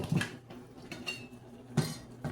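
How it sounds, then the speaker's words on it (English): A utensil clinks and scrapes against a simmering pot of rice pudding a few times, quiet and close, with short metallic knocks between softer rubbing. "Stir it a little bit."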